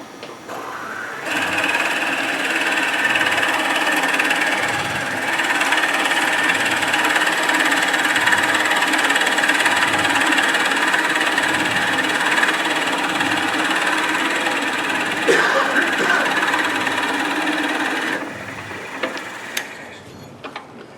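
On a lathe, a Forstner bit bores into fresh-cut wood at slow speed, giving a continuous grinding whir with rhythmic pulses for about seventeen seconds before winding down.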